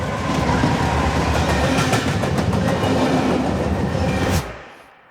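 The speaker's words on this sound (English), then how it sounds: "You can hear the rumbling of wheels on rails beneath you." Train wheels rumbling on rails with a steady loud roar and faint clickety-clack, heard from close by, before the sound cuts off abruptly and a short fading tail follows.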